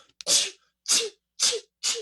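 Four sharp, breathy imitated sneezes burst out one after another at a steady pace, loud and close, each starting abruptly and fading quickly.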